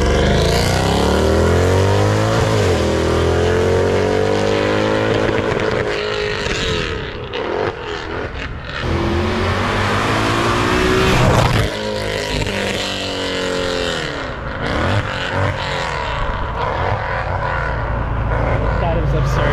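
A Mercedes C63 AMG W204 roars past in loud flybys, its engine note sweeping up and down with rising and falling revs, while people talk excitedly over it.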